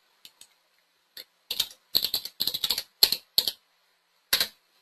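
Computer keyboard typing while entering a value into a spreadsheet cell: crisp, close keystrokes in uneven bursts, a few sparse taps and then rapid clusters separated by short silences, with no voices.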